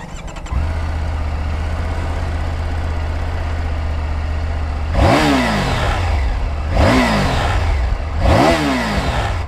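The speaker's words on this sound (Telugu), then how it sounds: "సో ఇంజన్ నాయిస్ అనేది కొంచెం డిఫరెంట్ ఉంది దీనిది," A Triumph Tiger 850 Sport motorcycle engine cranks and fires, settling into a steady low idle, then three sharp throttle blips rev it up and let it fall back, loud and close with no talk.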